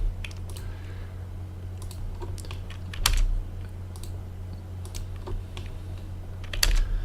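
Computer keyboard keys tap irregularly while commands are entered in AutoCAD, with clicks scattered close by over a low, steady hum.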